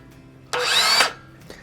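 A circular saw with a 6.5 inch, 40-tooth blade bites into a teak boat deck in a single short, loud whining cut of about half a second, starting abruptly.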